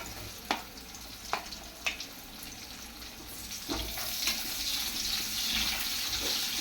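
Chopped onion tipped into hot oil with garlic, a few sharp clacks from the pan and spoon, then a steady broadband sizzle that swells and holds close and loud to the end, with no talking.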